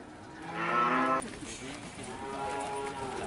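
Cattle roaming in an oil palm plantation, one cow giving a loud, drawn-out moo that stops abruptly, followed by softer lowing and steady ambient background noise.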